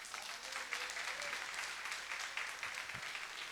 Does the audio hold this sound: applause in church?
yes